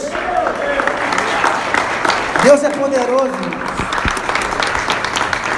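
A church congregation applauds Jesus, steady clapping running throughout while a preacher's voice speaks over it.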